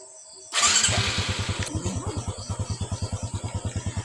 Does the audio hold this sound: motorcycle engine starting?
yes